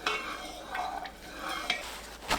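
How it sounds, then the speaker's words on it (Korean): A spoon stirs vinegar and soju into cooled, lukewarm pickle seasoning for wild garlic pickles, giving soft swishing, scraping strokes in a bowl, close and fairly quiet, with a few light clinks. "미지근하게 식은 양념에 식초 250ml, 소주 80ml 넣고 섞어줍니다"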